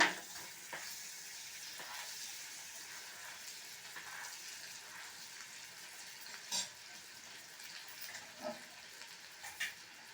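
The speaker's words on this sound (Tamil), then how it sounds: "இப்போது திருப்பி ரோஸ்ட் பண்ணிக்கோங்க" A butter bun, Madurai style, roasts on a pan after being flipped, giving a faint, steady sizzle with a few soft taps and clicks scattered through.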